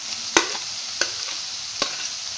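Mixed vegetables (capsicum, carrot, cabbage, spring onion) stir-fried in a hot pan for veg fried rice: a steady soft sizzle with three sharp spatula scrapes spaced about half a second apart.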